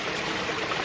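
Water runs steadily through a trail filter into a bottle outdoors, a soft continuous trickling hiss, quiet and brief.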